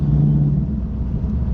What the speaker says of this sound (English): Do you hear us wheel hopping over the bridge?